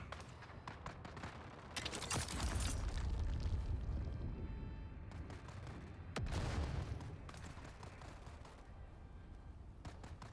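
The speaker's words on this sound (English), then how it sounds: "Seems to be a hell of a lot of gunfire going on up here" Bursts of automatic gunfire and booming blasts in the video game Dune: Awakening, rapid cracking volleys in clusters with heavier rumbling explosions between them, at moderate distance.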